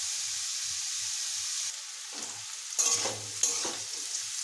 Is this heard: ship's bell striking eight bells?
no